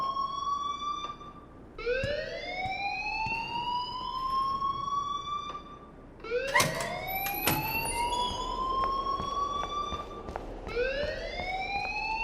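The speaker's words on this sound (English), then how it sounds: "please turn off that alarm since that's your job" In the video game Life is Strange, a fire alarm sounds as a loud whooping siren, each tone rising in a long sweep and repeating about three times, with no talking.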